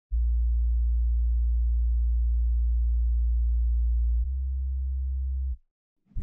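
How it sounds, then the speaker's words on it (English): A deep, steady sub-bass synth tone in an FL Studio chill breakcore track holds for about five seconds, drops slightly in level partway, then cuts off into silence. "Add that sub bass."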